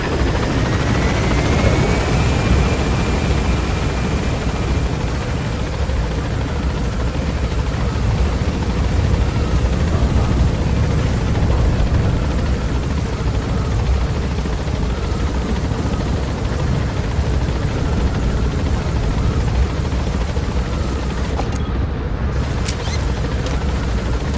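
A helicopter gains altitude in the video game Metal Gear Solid 5, giving a loud, constant rotor roar and engine drone that fills the whole stretch without pause.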